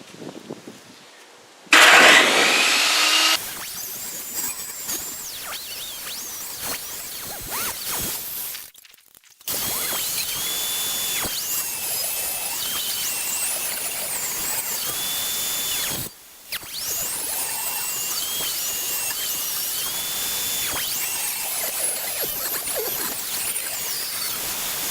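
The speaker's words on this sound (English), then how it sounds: "The wider boards, I'm going to go ahead and flip around and trim those down again to make them all a consistent width" Power saw ripping wooden pallet boards down to a consistent width, a loud burst of cutting followed by long stretches of steady high whining blade noise with brief pauses between passes.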